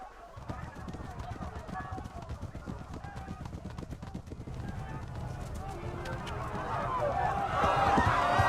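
Horse hooves galloping along a road in Kingdom Come: Deliverance, a steady rapid clip-clop that grows louder toward the end, with someone talking intermittently over it.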